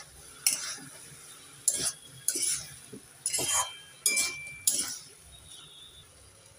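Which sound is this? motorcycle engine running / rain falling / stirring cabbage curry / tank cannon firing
stirring cabbage curry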